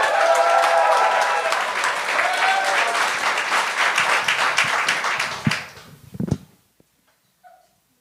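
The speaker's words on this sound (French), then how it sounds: "gardez vos applaudissements pour le prochain, Fahad Madi!" Audience applause and clapping at a comedy stand-up show, a dense sustained ovation for the next comedian that fades out after several seconds, followed by a few scattered claps and faint sounds.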